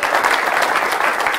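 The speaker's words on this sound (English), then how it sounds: "give the Lord a hand clap of praise" A church congregation at a Sunday morning service claps in praise, a dense, steady applause of many hands close by, with no break over its short span.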